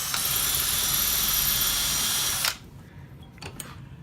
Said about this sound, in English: Drill into the dowel.